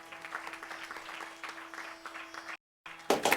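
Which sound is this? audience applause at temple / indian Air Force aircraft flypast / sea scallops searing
audience applause at temple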